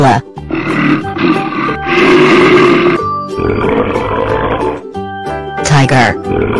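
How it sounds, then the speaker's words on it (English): A gorilla grunts and roars in a kids' animal sound series, several loud, rough bursts with short gaps between them, close and with no talk. "Gorilla."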